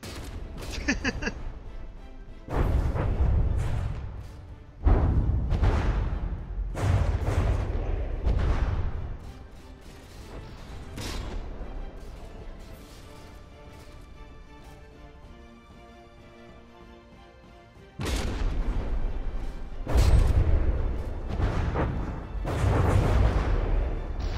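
Naval gun volleys from a battleship video game: repeated heavy booms and rumbling blasts in clustered bursts, loud and close, with a quieter lull midway before more firing resumes.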